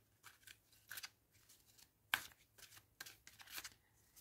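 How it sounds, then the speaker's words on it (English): Sticky tarot cards being shuffled in a series of short, brisk riffling bursts, with one sharper snap near the middle, close and fairly quiet with no talking. "These are beautiful cards, but they're sticky cards and they don't want to shuffle very well."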